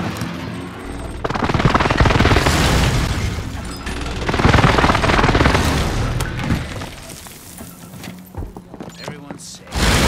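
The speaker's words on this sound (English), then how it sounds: "Enemy precision airstrike." A precision airstrike in a video game brings dense, loud bursts of gunfire and heavy explosions with shattering debris, mixed with battle noise and voices shouting over the chaos.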